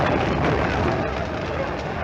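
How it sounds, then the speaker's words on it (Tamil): A cut-out of a political leader blowing up during a heated Tamil movie scene, heard as a dense, continuous roar of blast noise filling the whole short stretch with no pause. "இப்ப பாரு, உன் கட் அவுட் வெடிக்குது."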